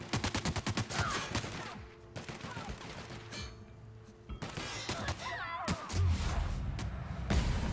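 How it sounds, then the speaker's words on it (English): Rapid bursts of gunfire from The Outer Worlds video game shooting at the player, dense and repeated volleys with heavy low thumps near the end, continuous throughout. "They shooting me."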